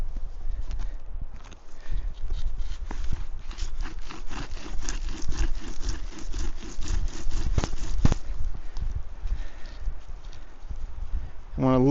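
A bow drill spins on a fireboard socket with a wooden spindle, giving rhythmic back-and-forth wooden rubbing strokes, fairly close, that speed up and then stop, with a person speaking near the end.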